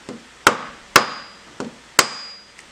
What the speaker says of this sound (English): I'll just use a leather mallet here